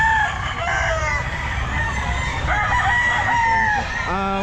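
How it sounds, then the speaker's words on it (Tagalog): Gamefowl roosters crow loudly and repeatedly at the Grotto pet market, several overlapping cock-a-doodle-doo calls and clucks over a busy crowded background. "Maraming manok."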